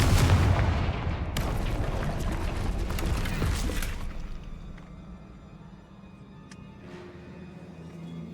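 A Confringo fire spell blasts in the Hogwarts Legacy video game: a loud, dense, booming burst that rumbles for several seconds, then fades to a quieter hum with a few faint clicks.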